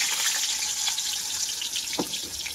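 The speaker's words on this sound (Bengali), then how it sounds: "চলো আলুটাকে ভেজে নিই, তেলটা গরম হয়ে গেছে।" Potatoes frying in hot oil give off a steady, bright sizzle and hiss throughout, close by, with a brief splatter-like crackle near the end and no talking.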